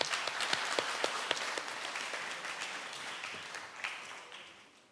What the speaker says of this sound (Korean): 박수로 모셔주십시오.